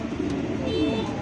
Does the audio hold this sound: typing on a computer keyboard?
no